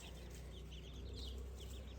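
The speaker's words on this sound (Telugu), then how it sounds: "అదైతే మా నాటుకోడి పుంజు" A country rooster gives soft, repeated clucks at a moderate distance, heard over a steady low background hum.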